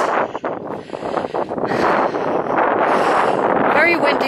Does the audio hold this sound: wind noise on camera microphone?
yes